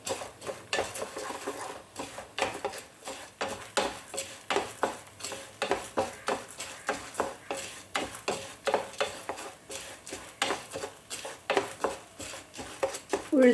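Urad dal roasting in a pan for idli chutney podi, being browned, with rhythmic spatula scrapes and rattling of lentils against metal over a soft sizzle, repeated steadily throughout.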